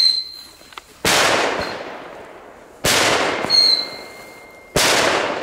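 Screamer fireworks (gillers) set off outdoors in Belgium: three loud, sharp bursts spaced about two seconds apart, each trailing a rushing hiss and a high whistling shriek that fades away.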